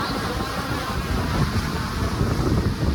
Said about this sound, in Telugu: ఇక్కడ గాలి ఎక్కువ వేయడం వల్ల